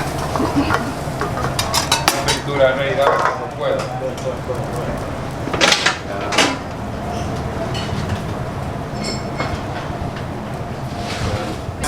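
A busy restaurant kitchen with dishes and cutlery clattering, sharp metallic clinks over a steady sizzle and background noise, with occasional voices.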